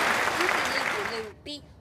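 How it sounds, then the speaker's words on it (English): A small group claps and cheers indoors in a short, close burst that cuts off abruptly, followed by a brief voice. "let's give a round of applause to Loopy!"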